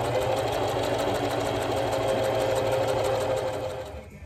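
A sewing machine runs steadily while shirring dress fabric, a continuous close mechanical whir with a fast rapid stitching pulse that fades out at the end.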